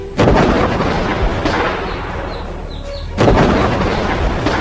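Pistol gunshot sound effect: three loud, sharp reports spaced a second or more apart, each with a rumbling tail that carries between shots.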